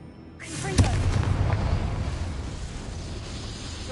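A Confringo fire spell cast in Hogwarts Legacy lands as a sharp blast with a crackling burst, followed by a loud, sustained rumble that slowly fades over a few seconds.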